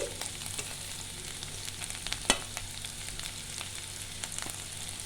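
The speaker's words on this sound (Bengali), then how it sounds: "হালকা করে আমি ভেজে নেব। এবার দিয়ে দেবো আমি ক্যাপসিকাম" Chopped capsicum with red and yellow bell peppers frying lightly in a pan for baby corn chaat, giving a steady close sizzle with soft stirring clicks and one sharp scrape midway.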